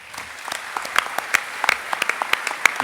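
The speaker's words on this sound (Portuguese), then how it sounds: "Um grande aplauso. Paula Pinto." An audience at an awards gala ceremony applauds an award winner, many hands clapping at moderate volume with sharper individual claps standing out over the steady wash.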